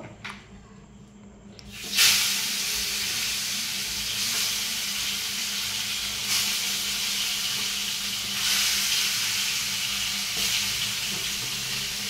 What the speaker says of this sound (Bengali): এদিকে মাছটা এবার ভেজে নেব